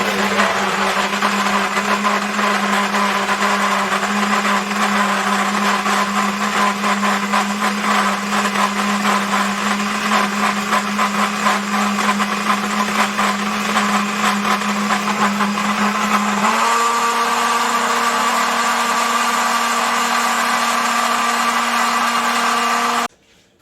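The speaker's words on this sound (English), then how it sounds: "And now we're ready for the blending" A blender whirs loud and steady, pureeing guajillo chiles with minced garlic. Its droning motor shifts pitch about two-thirds of the way through, then cuts off abruptly near the end, with no talking.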